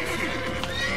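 A single close horse whinny from The Witcher 3, loud and tonal, filling the whole short moment.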